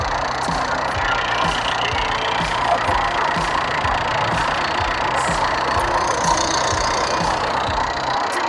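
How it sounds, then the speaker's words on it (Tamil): Tata Indigo XL TDI 2010 turbo diesel engine idling, a steady low diesel rumble with a rhythmic clatter and a faint high ticking over it, close and continuous with no talking. "டிடிஐயில் டர்போ இன்ஜின் நல்லாயிருக்கு"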